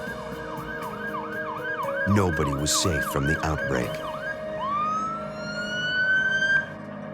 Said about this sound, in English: The sound of ambulances were a common and terrifying reminder.